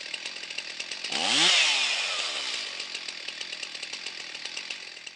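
A chainsaw engine runs at a steady idle close by, with a brief rise and fall in pitch early on before settling back into an even, buzzing drone.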